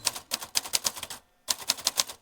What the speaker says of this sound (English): We type on-the-spot poems on vintage typewriters.